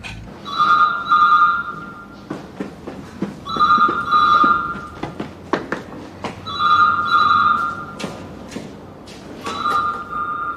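A telephone rings in a fire station, loud repeated two-tone electronic trills in regular bursts with short gaps between them, close by, with scattered clatter and movement underneath.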